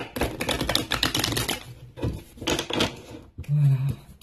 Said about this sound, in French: On va mélanger un peu, hop là, les cartes.